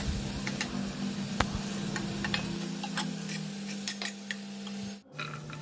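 Chopped tomatoes and chillies in a spice mix, stirred in a hot pan with a steady soft sizzle and scattered close scraping clicks from the spoon, with no talking.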